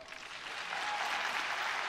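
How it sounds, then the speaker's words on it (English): Applause from a large crowd at a heyball billiards final, a steady dense wash of clapping that swells after the first moment and holds evenly, fairly distant and moderately loud. "Well deserved round of applause from this big crowd in tonight"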